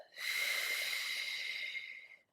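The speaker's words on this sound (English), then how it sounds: "Exhale, pursed lip." A pursed-lip exhale during a Pilates breathing exercise: one steady, close hissing breath lasting about two seconds, heard alone.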